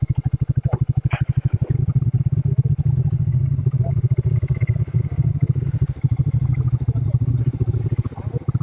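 A motorcycle on a mountain road between Narkanda and Chitkul rolls downhill, its engine giving a close, steady, rapid thumping beat with a few faint clatters over it.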